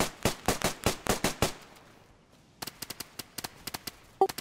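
Gunfire in DayZ: a fast burst of about ten sharp, closely spaced shots, a brief pause, then another quicker string of cracks, fairly distant and alone, with no talk over them.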